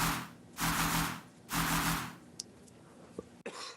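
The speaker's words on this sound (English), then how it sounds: "Main sounds this little triplet wob" Triplet wob bass from the drop of the electronic track: two long, loud, broadband wobbling bass swells, followed by sparse small ticks and a short burst at the end.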